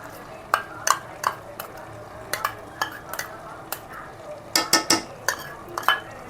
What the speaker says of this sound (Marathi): आता आपण हे चीज घातलेला जो सॉस आहे, कारण तोही आपल्याला शिजायला लागेल, तो आपण मिक्स करूया.